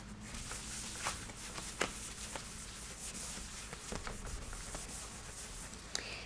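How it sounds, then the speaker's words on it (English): A paper towel rubs over wax-covered paper, giving a steady, close, quiet scratchy swishing broken by small crackling ticks, with no voices. "when I take my paper towel and I rub over the surface"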